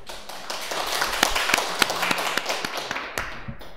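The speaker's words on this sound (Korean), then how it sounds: "시작하기 전에 박수 치는 건 오늘 처음이에요." A small audience at a Korean health lecture gives a short burst of scattered, uneven hand claps, close and fairly soft, trailing off at the end.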